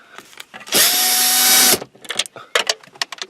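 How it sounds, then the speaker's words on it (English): A power drill removes screws from a 2007 Ford Focus overhead console, whirring loudly for about a second, its pitch steady, followed by scattered clicks and clatter of handling tools nearby. "take your drill and take those screws out as best you can."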